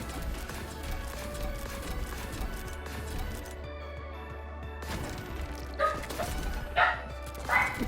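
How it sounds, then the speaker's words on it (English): Puppies bark loudly in several sharp bursts near the end, over a steady bed of background music and electronic game sounds. "I think you can hear my puppies going ham right now."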